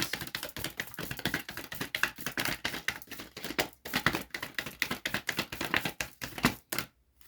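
Rapid, dense riffling and tapping of a tarot deck being shuffled close up, a continuous flurry of crisp clicks that stops abruptly near the end.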